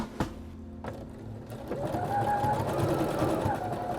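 A sewing machine runs a zigzag stitch across curtain fabric, starting with a few separate thumps and then settling into a steady, close-up mechanical whir that lasts to the end, with no speech.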